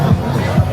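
A crowd of spectators at the final leg of a 2025 motocross series in Cagayan de Oro. Nearby voices rise in a brief roar of shouts and cheers, two quick swells within under a second.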